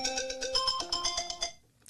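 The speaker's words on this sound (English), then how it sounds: "That is my phone telling me that I have some work to do." A phone timer alert rings as a repeating electronic melody of bright tonal pulses for about a second and a half, then stops. A short click follows near the end.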